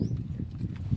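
Horse hooves clip-clop along a rough rural road near cotton fields, a muffled, uneven plodding under a steady low rumble.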